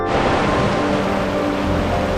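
A forest stream rushes as a loud, dense, continuous wash of water heard close up, steady throughout the short span with no voices.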